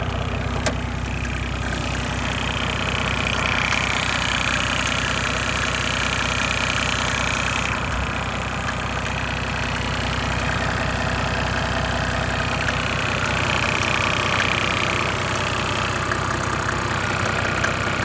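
A Mercedes OM606 turbo diesel engine idles steadily after a cold start, a close, continuous low clattering rumble with an even rhythm throughout.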